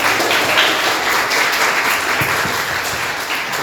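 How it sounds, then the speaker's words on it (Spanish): Audience applause at a school conference, a steady dense round of clapping from a room full of people, loud and continuous from start to finish with no talking. "Y aplaudan a Mónica"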